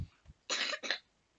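Coughing, two or three close, harsh bursts over about half a second, loud and near, with faint low sounds before and no talk.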